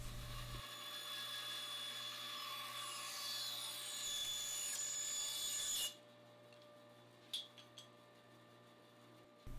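A freehand saw cut bevels a wooden boat stem, giving a steady broadband buzzing rasp for about six seconds before stopping abruptly, followed by a few faint knocks and clicks.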